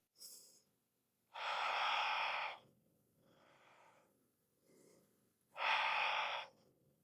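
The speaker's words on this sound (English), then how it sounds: "You're going to inhale while counting without forcing it, and you're going to exhale counting to 3." Slow, paced breathing during a psoas stretch for back pain, with long audible inhales and exhales alternating with quieter breaths and short pauses, close and alone.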